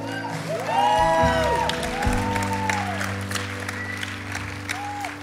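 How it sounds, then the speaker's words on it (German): Church audience at a Sunday night service giving the band a round of applause, the clapping and a few whoops sustained under a sung or called voice and lingering organ-like tones, fairly loud then easing slightly. "Komm, wir geben der Band einen Applaus"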